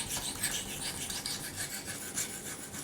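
Steady rasping strokes of a knife blade sharpened across a 2000-grit finishing whetstone, a continuous close scraping texture with slight rhythmic swells and no talking.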